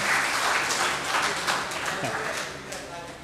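An audience at a retirement party claps to welcome the retiree to the stage, a steady, dense round of applause that gradually tapers off, with some voices mixed in.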